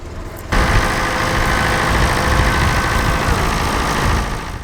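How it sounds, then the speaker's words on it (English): An original-condition David Brown tractor engine starts up at a ploughing match and runs with a loud, steady low chugging rumble, close by and continuous. "This original condition David Brown is quite a nice tractor"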